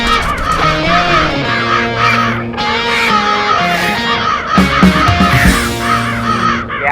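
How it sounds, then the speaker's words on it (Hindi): A large flock of kites screeches and calls nonstop over a city crowd, many overlapping shrill cries layered together, loud and dense throughout with a faint murmur of voices underneath. "इतने सारे चील, this is not a good sign."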